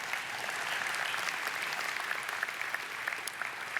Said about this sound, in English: I'll tell him that you clapped.